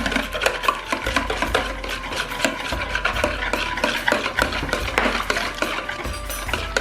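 A beater whisking one kilogram of plain yogurt in a bowl for dahi bhalla, steady scraping and stirring strokes close up, continuous and fairly loud with rhythmic clinks against the bowl, no voices.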